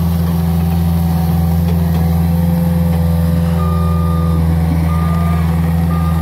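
Caterpillar skid steer running on a work site, its loud steady engine drone accompanied by repeated high reversing beeps that sound in regular bursts, close and continuous.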